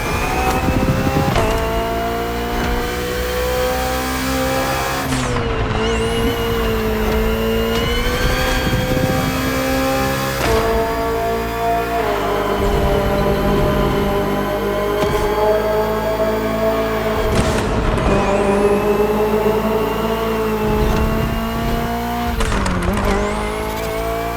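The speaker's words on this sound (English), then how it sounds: "The BMW M Hybrid V8. What a beast." A BMW M Hybrid V8 endurance race car from 2023, driven in a racing game, roars continuously at close range, its engine note climbing and dropping through gear shifts, with tire squeal on several corners.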